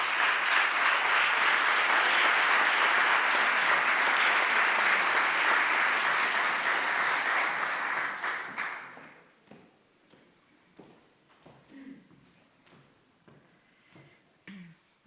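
Loud, sustained audience applause greets the president of the Colegio Profesional de Trabajo Social de Aragón at a tenth-anniversary social work awards ceremony, filling the room for about eight seconds before fading to a few scattered claps.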